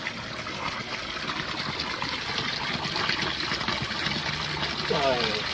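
Cold natural spring water flowing out of the mountains near Abbottabad gushes and splashes in a steady close rush, with a voice talking over it at times.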